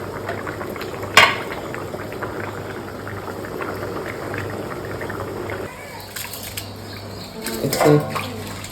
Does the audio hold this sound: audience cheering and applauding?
no